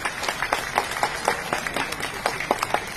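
Audience applause at an Urdu poetry mushaira held in an auditorium, many hands clapping in a dense, steady patter with sharp individual claps standing out, filling the whole stretch.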